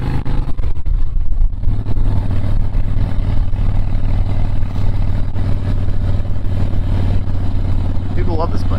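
A 2005 Harley-Davidson Softail Springer Classic's engine throbs loud and close in a steady low rumble, rising as it revs while riding, with wind buffeting and someone talking over it.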